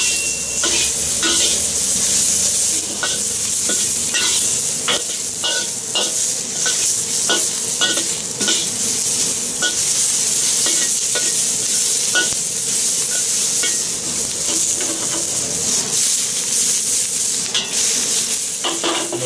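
Beef chow mein being stir-fried with peppers and snow peas, the noodles tossed and stirred in a hot pan with a steady loud sizzle and repeated metal scraping clatters throughout, no talking.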